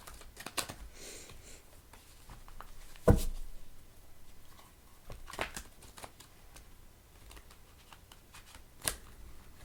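Cards riffled and shuffled in quick bursts, with a sharp snap partway through and softer handling sounds between, close by and fairly quiet.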